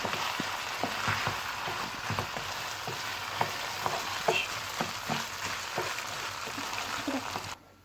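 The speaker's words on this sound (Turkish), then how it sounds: "Şimdi pirinci yeteri kadar kavuracağız" Rice toasting in a pan for pilaf gives a continuous close sizzle and crackle, with occasional scraping and stirring clicks throughout before stopping suddenly at the end.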